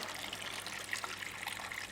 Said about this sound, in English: you can actually drain the water straight into your funnel